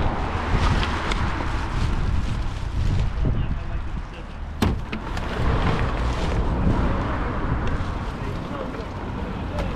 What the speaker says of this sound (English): there's some gusts picking up, so maybe it'll still be windy today.